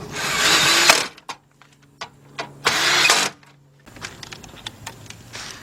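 A power tool drives bolts on a Toyota Camry 2.4 radiator in two loud whirring bursts, separated by short clicks and taps from handling the parts nearby.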